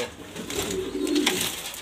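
German Beauty Homer pigeons in a loft in Mirpur, Dhaka: soft, close cooing in a low murmuring warble under faint background noise for about two seconds.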